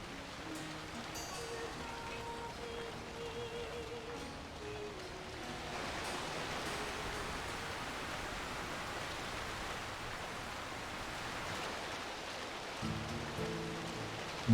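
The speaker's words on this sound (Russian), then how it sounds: "Дождь." Steady broadband rain hiss from the Lord of the Rings: War in the North video game, a continuous even wash throughout with faint game music tones and effects layered underneath.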